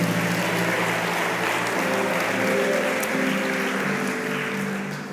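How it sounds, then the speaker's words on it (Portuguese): Church congregation applauding during an evening service, sustained thick clapping with a low musical drone underneath, steady and full before tapering slightly at the end. "Quantos podem aplaudir o Senhor nessa noite,"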